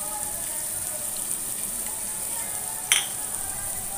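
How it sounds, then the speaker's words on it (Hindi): Beef sizzles steadily with spices in a pan over a medium-high flame, a constant frying hiss throughout with one brief clink or stir around the three-second mark. "तो अच्छी तरीके से मिक्स करेंगे और इसे अच्छी तरीके से सॉटे कर लेंगे।"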